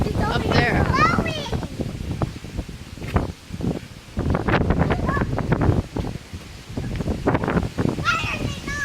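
Strong wind during an outdoor storm, roaring and buffeting the microphone in gusts, with people talking over it throughout.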